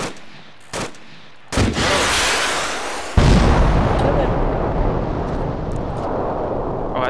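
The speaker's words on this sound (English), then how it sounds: "To launch my missiles." Missile launches and explosions in a Warhammer 40K Black Legion strategy game: a short burst, then a heavier roar, then a loud blast that stays as a sustained rumbling barrage, with no talk over it.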